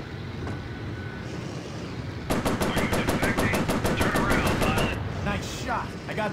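Bomber gunners firing machine guns in the flight combat game Warplanes: Battles Over Pacific, a sustained rapid burst of several seconds over a droning engine, a voice speaking through the din.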